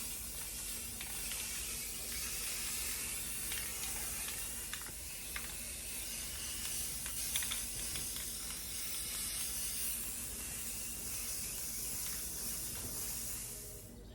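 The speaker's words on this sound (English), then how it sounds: "Okay, let's get these parts primered. A little dusting first." An aerosol can sprays a light dusting coat of primer onto 1972 VW Super Beetle parts. A steady, loud hiss runs almost unbroken for the whole stretch, with faint rattling underneath and no talking.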